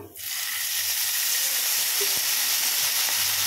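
Green chillies, cumin and curry leaves sizzle in hot oil in a pan, giving a steady, close, bright hiss that swells right after the start and carries on evenly with a faint tick or two.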